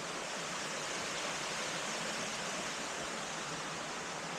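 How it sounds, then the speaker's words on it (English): A waterfall and river rush beside the wooded Cadair Idris trail, a steady, even, broadband roar that stays constant and moderately distant throughout, with no talking. "you've got like a waterfall river basically following you the whole way"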